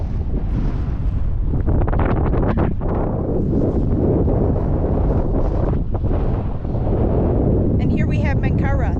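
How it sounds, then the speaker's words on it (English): Strong wind roars across the Giza Plateau by the pyramids, buffeting the microphone in loud, continuous gusts that fill the whole clip, with a voice faintly present under the rush. "It's incredibly windy."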